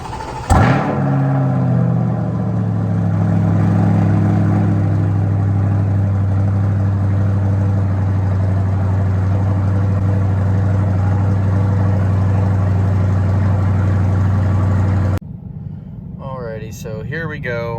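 A C8 Corvette engine cold start: it cranks and fires up with a sharp roar, then settles into a loud, steady high idle for about fifteen seconds before cutting off abruptly.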